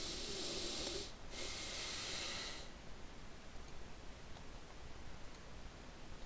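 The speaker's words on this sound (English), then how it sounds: "I'm sure you guys can hear my breathing" Close, heavy breathing straight into a microphone, a long breathy hiss for the first few seconds with a short pause, then fading into faint background noise, no talk.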